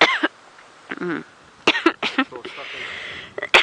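Several harsh coughs and throat-clearing bursts, close and loud, separated by short pauses with some breathy sounds.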